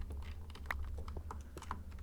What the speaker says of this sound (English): I'll have to figure out a way to mute the clicking sounds and the keyboard sounds.